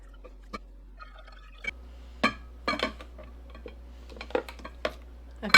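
Fire cider pours slowly from a bottle fitted with a small stopper, coming out in sparse drips and glugs with clinks of glass, close and intermittent, louder at the end.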